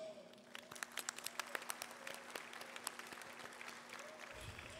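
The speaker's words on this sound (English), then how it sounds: "Please give yourself a big round of applause." Scattered, faint clapping from a high school graduation crowd, quick irregular claps continuing steadily over a low background hum.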